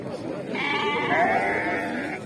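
Sheep bleats at a livestock market, one long wavering bleat rising close by against a murmur of crowd noise and voices from people nearby.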